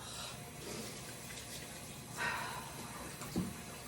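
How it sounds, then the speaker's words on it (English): Tap water runs into a sink during handwashing in a home kitchen, a soft, steady flow with a couple of brief louder splashes near the end. "so now you gotta wash your hands"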